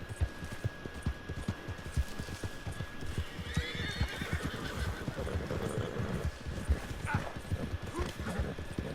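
Rapid hooves clip-clopping in a galloping rhythm in the game Red Dead Redemption 2, joined midway by a loud horse neigh, continuous and close.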